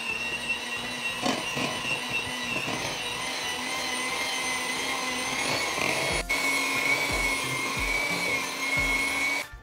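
An electric mixer whirs steadily and loudly through peanut butter cookie dough made with flour, baking soda, baking powder, vanilla and maple, its motor droning throughout with a brief clunk partway and stopping at the end.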